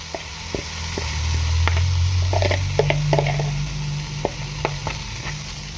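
Batter mixture poured into a lightly oiled frying pan, sizzling steadily up close with soft scraping and tapping of a utensil spreading it, no talk.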